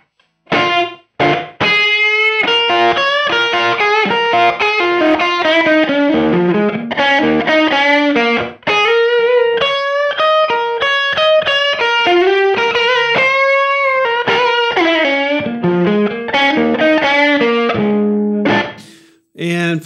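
Stratocaster lead guitar on the middle pickup, played through a '57 Tweed Twin with a ribbon-mic cabinet impulse and a little room reverb, phrasing a slow blues solo: continuous gritty sustained notes and bends, close and loud, no talk.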